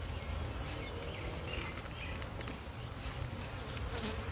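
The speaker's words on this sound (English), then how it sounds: "a bunch of new bees, and they're flying around" Newly hatched honey bees fly around the hive, producing a steady, dense buzzing drone that fills the whole stretch at a moderate, close level, with no talking.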